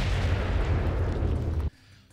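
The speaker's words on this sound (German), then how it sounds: "Und Bombe zünden." A bomb detonates in Arma 3: a loud, deep boom rumbles for well over a second, then cuts off abruptly into quiet.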